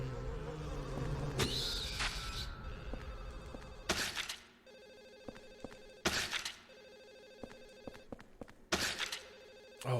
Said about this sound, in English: Just phone ringing constantly.